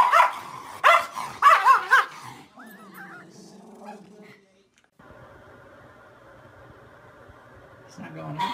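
A dog barks and yips in a quick burst of loud, close barks at the start, then fainter whines and yelps follow, with people talking and laughing around it.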